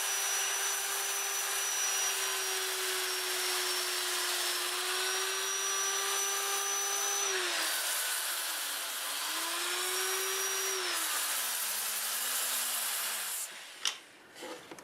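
A wood turning on a lathe spinning in reverse at 300 RPM is sanded with a 120 grit disc, giving a steady whirring motor hum with a rubbing hiss whose pitch dips and rises, ending with a few knocks.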